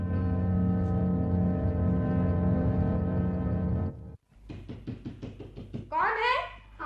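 Knocking on a door in a Hindi radio comedy skit: a sustained droning tone gives way to a quick series of about seven sharp raps, followed by a voice speaking.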